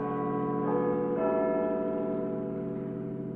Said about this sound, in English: the chimes of Big Ben preceded the 9 o'clock news